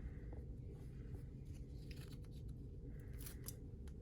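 Scissors cut through casting tape to trim a hand splint, making a few faint, crisp snips and crunchy cuts in a quiet room.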